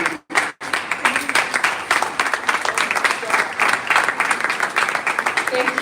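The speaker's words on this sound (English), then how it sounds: "Please, a round of applause with a standing ovation, actually." Loud, dense audience applause at a business growth conference: a crowd clapping vigorously and continuously after a brief opening burst, with voices mixed in beneath the clapping.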